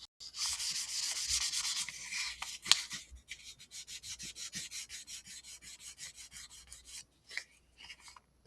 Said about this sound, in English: we're just going to lightly sand this with 3000 grit sandpaper